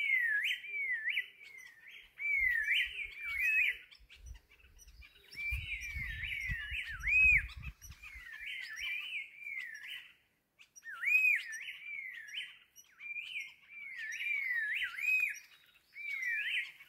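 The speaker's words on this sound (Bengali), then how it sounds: "মেইন এখানে শুনতে পাচ্ছি সেটা হচ্ছে পাখির ডাক। কি এক্সেলেন্ট!" Birds on a mountain trail near Okhrey repeat bright, clear whistled phrases in regular bursts over a quiet background, with a brief low rumble partway through.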